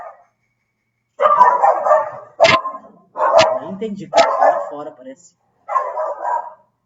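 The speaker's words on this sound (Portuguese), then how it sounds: "Ah, os cachorros?" Dogs bark outside in short spaced bursts, several sharp barks cutting through close-up conversation as people talk over and between them.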